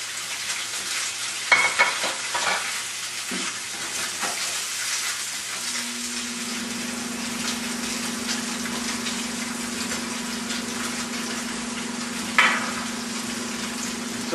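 Salmon fillet searing in a hot pan of canola oil over medium-high heat, a steady broadband sizzle with a few sharp crackles and a sustained low hum, running alone without talk.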